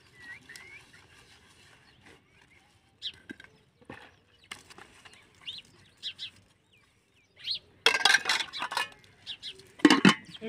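Metal pots, plates and utensils clatter and clink as they are washed during a village morning chore, with scattered knocks early on and louder bursts of clanging near the end, while birds chirp nearby.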